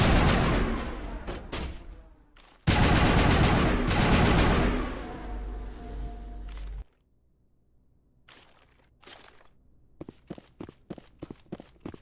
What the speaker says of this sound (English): Just freaking shotgun him.